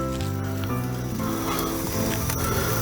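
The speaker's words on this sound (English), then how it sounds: "Going with that direct heat, they'll just sizzle up in just a couple of minutes." Steady, crackling sizzle of thin boneless pork chops cooking on a grill over direct high heat, continuous and close, with a low hum underneath.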